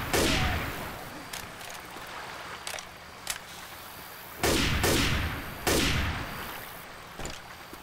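Gunfire in Left 4 Dead 2 on the Cold Stream campaign, several loud sharp shots with decaying tails spaced seconds apart over a constant stream-like background hiss, plus a few fainter clicks between.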